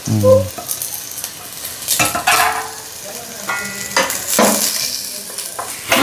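Chopped onions and green chillies drop into hot oil for fish curry and sizzle loudly, while a spoon scrapes and knocks against the pan in uneven strokes.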